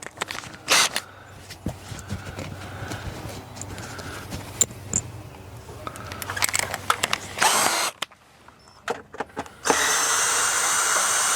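A power tool backs lag bolts out of the upper rafter arm of a Lippert electric awning. Intermittent buzzing drill bursts mix with knocks and clatter, ending in a sustained steady run.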